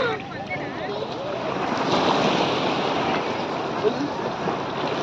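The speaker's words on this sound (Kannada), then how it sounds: "ಇನ್ನೂ ಸ್ವಲ್ಪ ಅಲೆ ಯಾಕೋ ಜಾಸ್ತಿ ಬರೋ ಥರ ಇದೆ" Ocean waves at Kakinada beach on a rainy day make a continuous rushing surf, mixed with wind buffeting the microphone and faint voices nearby.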